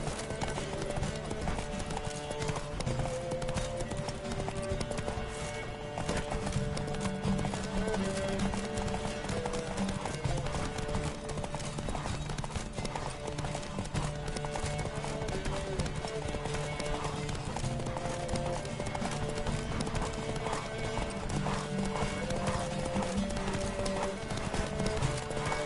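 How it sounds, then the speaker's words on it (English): Steady galloping hoofbeats of a horse in The Witcher video game during a horse race, a continuous rhythmic clip-clop close and loud, with game music and faint voices underneath. "Don't spare the horse!"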